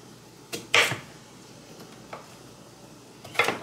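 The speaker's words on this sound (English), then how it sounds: "So I'm gonna cut these potatoes up" Knife cutting potatoes into small wedges on a board, a few sharp chopping strikes spaced irregularly with quiet gaps between, close and fairly clear.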